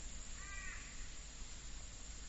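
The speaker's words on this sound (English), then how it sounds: "Yes, they're crows." A single short crow caw, faint and distant, sounding over a steady low hum.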